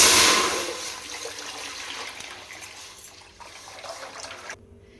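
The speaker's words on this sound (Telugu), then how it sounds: "దీంట్లో వాటర్ వేసుకోవాలి ఒక త్రీ లీటర్ వాటర్ వేసుకో" Water poured into a large bowl on a stove, a rushing splashing stream that starts strong and gradually thins to a trickle before stopping abruptly.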